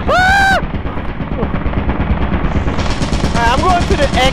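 Turret gunfire in Lethal Company, rapid loud bursts of automatic shots running through the whole clip, with a short squealing electronic tone at the start and brief voice-like chirps near the end.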